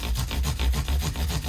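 Micro mesh sanding on a PRS Silver Sky guitar gives a close, steady rasping scrub in quick back-and-forth strokes, with no talk over it.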